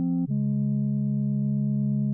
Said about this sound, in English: That is going to create a chord that sounds like this.